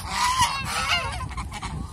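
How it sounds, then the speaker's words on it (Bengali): Domestic geese kept alongside Chinese geese honking loudly and close, a few overlapping nasal calls in quick succession with no voices. "ওনার রাজহাঁস হইল 3টা, একটা ছেলে হাঁস, 2টা মেয়ে হাঁস, আর 3-4টা আছে চীনা হাঁস"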